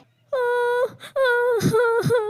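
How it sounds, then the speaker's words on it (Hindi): A high, drawn-out wailing cry rises and falls in several long moaning phrases, loud and close, with brief breaks between them. "उन्हें किसी के रोने की आवाज सुनाई देती है"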